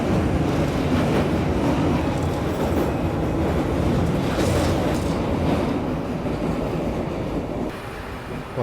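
The Bihar Sampark Kranti Express rolls steadily along near the Gandak river, with a loud, continuous rumble of wheels and carriages and faint rhythmic clatter throughout.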